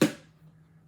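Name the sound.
box door closing, magnetic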